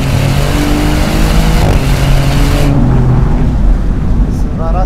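A Maserati GranCabrio Trofeo in sport mode accelerates hard on a winding road, its engine roaring loud and continuous from inside the cabin, rising in pitch before easing off.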